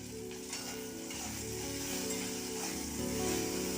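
Salted taro flowers dropped into hot oil in a pan, giving a steady, close sizzle and crackle that stays even and builds slightly, with no voices over it.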